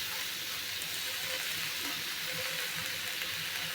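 Red spinach sizzles in a hot pan, a dense, even frying hiss that holds steady close up throughout, with no voices.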